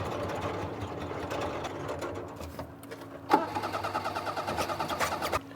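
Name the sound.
engine cranking, trying to start after two years abandoned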